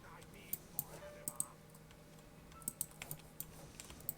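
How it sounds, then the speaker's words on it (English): A clicky computer mouse during an online game session, sharp isolated clicks in small bursts and pairs close to the microphone, with faint background hum and no talk over them. "I acknowledge that my mouse is really clicky"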